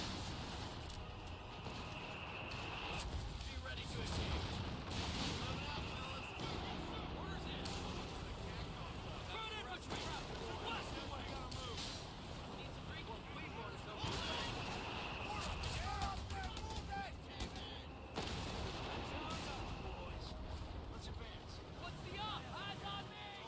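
Artillery barrage in Company of Heroes, a dense stretch of booming impacts and crackling gunfire rolling on continuously at steady loudness, with someone talking over the battle.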